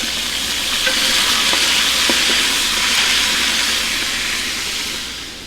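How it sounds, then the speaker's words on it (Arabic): Pieces of chicken fry in a pan with a loud, dense, hissing sizzle while being stirred, a few faint utensil clicks showing through the steady crackle. "في المرحلة دي هبتدي احرك الدجاج بتاعي"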